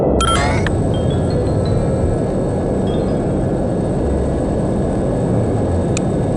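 Steady low engine drone inside an airplane cabin in the spy video game No One Lives Forever, a loud continuous rumble with a brief chime-like tone at the start and a faint click near the end.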